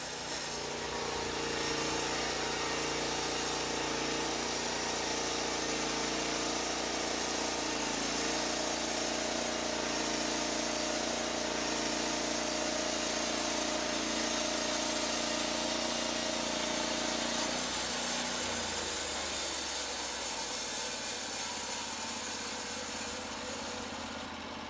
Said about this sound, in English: Just lower the saw head, activate the operator's control, and guide the blade through the cut.